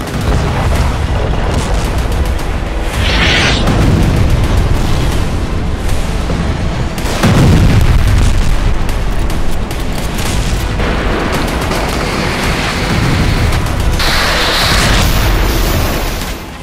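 A loud, booming blast from an Israeli strike on a building in Beirut erupts amid roaring, chaotic noise, followed by further heavy rumbling and crackling debris sounds throughout.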